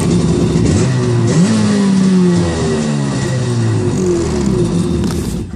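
A jet ski engine rumbles close by and revs repeatedly, pitch sweeping up and down in loud, throaty bursts.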